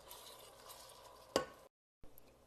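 Onions and minced meat stirred in a pan for kibbeh filling, a soft low sizzle with scraping, then a sharp spoon knock, a brief silent cut, and the scraping resumes; quiet overall.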